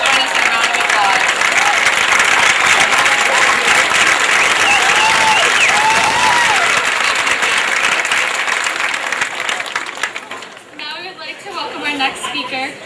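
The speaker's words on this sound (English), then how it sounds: "Class of 2015, please join us in a round of applause." A large audience at a 2015 high school graduation gives loud, sustained applause with cheers and whoops mixed in. It thins out near the end as voices rise.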